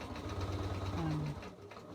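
A sewing machine runs steadily while stitching a laptop bag, a continuous low mechanical hum with a brief higher whine near the middle before it eases off, with a voice talking over it.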